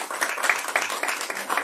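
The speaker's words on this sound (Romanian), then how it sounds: "să-i aplaudăm pentru tot ce fac ei acolo la centru" Audience applause at a fundraising event for children with disabilities, a brief burst of scattered hand clapping heard at moderate distance with no talk over it.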